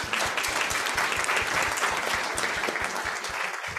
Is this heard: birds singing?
no